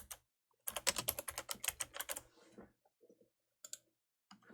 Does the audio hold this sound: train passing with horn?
no